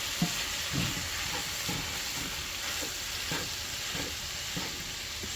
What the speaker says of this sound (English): Alright guys, got the potatoes in. Just stir this all up.